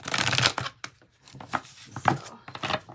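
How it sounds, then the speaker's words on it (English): A deck of stiff oracle cards is shuffled close up in several quick riffling bursts separated by brief pauses. "These are the hardest cards I've ever had to shuffle."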